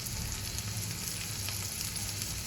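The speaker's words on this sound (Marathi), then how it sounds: "आणि मिनिटभर परतून घेते" Red pumpkin bhaji with sesame seeds and coriander sautéing in a pan, a faint, steady low sizzle heard close with no speech.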